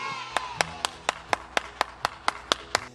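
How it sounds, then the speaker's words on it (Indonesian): Clapping for children at an online Sunday kids' church service: about eleven evenly spaced, crisp claps in a steady rhythm, fairly quiet and close, with no talking. "Tepuk tangan dong yang meriah untuk Super Kids."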